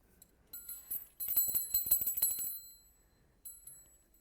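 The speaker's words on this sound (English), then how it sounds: "You see my bell hanging on the Christmas tree?" A small bell hanging on a Christmas tree rings in quick, tinkling bursts, clear and close, with a short pause and then a brief final jingle.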